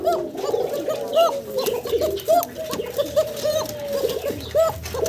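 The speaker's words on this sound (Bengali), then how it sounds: "মাশাআল্লাহ ককার ডাক শুনলেন দর্শক" A male pigeon calls over and over in a rhythmic series of close, loud cooing phrases, with brief pauses between bursts and faint chatter in the background.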